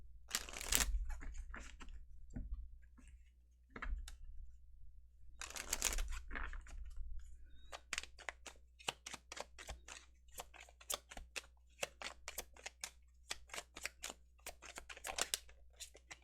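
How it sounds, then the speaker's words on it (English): Tarot cards shuffled close by, crisp papery snaps and flutters in irregular bursts, then a long run of rapid light clicks in a quiet room. "I was concentrating on shuffling."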